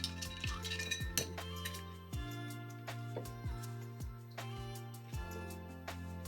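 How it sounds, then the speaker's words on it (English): Ice clinks and rattles as a Godfather whiskey cocktail is stirred in a mixing glass. The bright, irregular chimes are faint and close, with no voices. "You stir. With a good 15-second stir to make sure you bring the temperature of the cocktail down"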